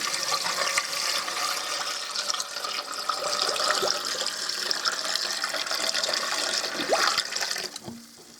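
Water pours steadily into a canner pot, a continuous broad rushing splash that holds for several seconds before tapering off near the end.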